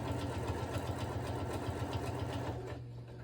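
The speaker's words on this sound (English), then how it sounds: "So now we're going to sew all the way across about 1/8 of an inch from the edge, and that will close up that opening." A sewing machine runs a seam across a fabric dog kerchief about an eighth of an inch from the edge: a close, steady, rapid mechanical stitching rhythm that stops shortly before the end.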